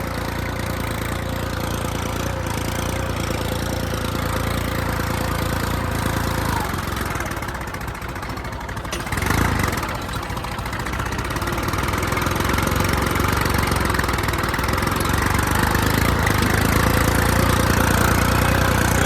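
A loud New Holland tractor engine idles steadily nearby, a continuous low rumble with a brief dip partway through and no voices.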